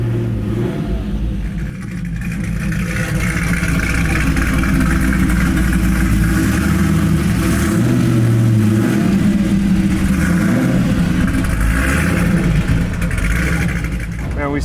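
A 750-horsepower supercharged LS9 Camaro convertible accelerates with its engine revving, a loud, sustained, deep snarl with the top down, while people talk over it.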